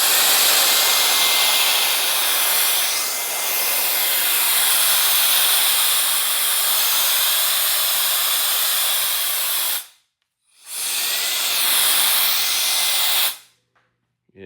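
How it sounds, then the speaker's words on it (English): Wolfbox MF100 handheld electric air duster running at full power to blow stray leaves, a loud, steady close-up rushing hiss that cuts out briefly and then returns before stopping. "It is a handheld leaf blower."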